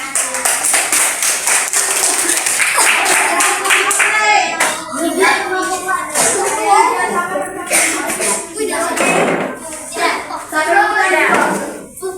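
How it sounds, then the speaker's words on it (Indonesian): Students clap together in a primary-school science classroom, loud close handclaps forming a brisk burst and then trailing off as children's voices and chatter take over. "Oke, tepuk tangan untuk Farmi."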